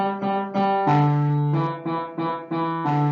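The original Ciccona bass line is played on a sustained keyboard instrument, a series of held notes stepping through a short repeating pattern, clear and alone without talk.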